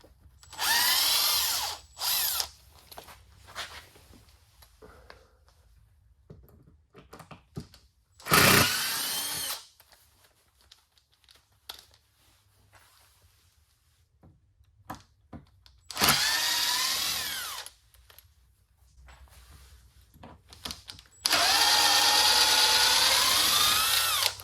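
Power drill backing screws out of an epoxy river desk form, in several separate bursts of whirring, some short and some several seconds long, loud and close with quiet gaps between.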